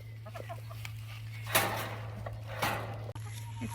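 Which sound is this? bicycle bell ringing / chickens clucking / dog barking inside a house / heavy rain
chickens clucking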